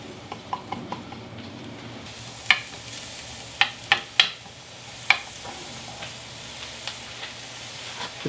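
Chopped red onion frying in a pan of olive oil gives off a soft, steady sizzle, with sharp clinks and scrapes from stirring standing out at irregular moments.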